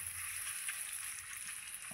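Shrimp sizzle steadily in a hot pan of oil, an even, close crackling hiss with no talk over it.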